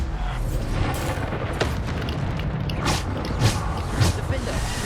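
Repeated Bombarda spell explosions in the Hogwarts Legacy video game, several dull booming blasts over a constant rumbling backdrop, with a voice chanting spell names throughout.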